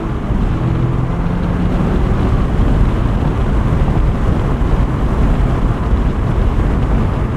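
A 2023 Mazda MX-5 Miata Grand Touring pulling away with the top and windows down. Loud, steady wind roar and engine rumble fill the whole stretch without a break.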